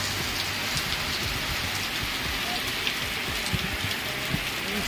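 Heavy monsoon rain beside a flooding river falls in a dense, constant roar, with close drops pattering and spattering on surfaces throughout.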